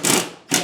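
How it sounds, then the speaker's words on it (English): A cordless drill drives old screws back into drywall shimmed with cardboard, making two short whirring bursts with a brief pause between them, loud and close. "I'm just resetting my old screws."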